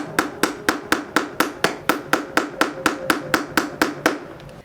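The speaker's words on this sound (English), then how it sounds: "So now I'm going to open the window to finish hammering the nails in" Steady hammer blows drive nails into draft-proofing strip on a window frame, about seventeen sharp, evenly spaced strikes in quick succession, close and fairly loud with nothing else heard.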